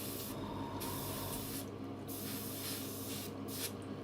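Paint spraying onto small model parts, a faint steady hiss broken by short pauses, with the spray released in bursts.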